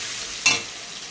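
Chopped onion drops into hot oil in a pan, a brief close burst of sizzle that quickly settles back to a soft background hiss.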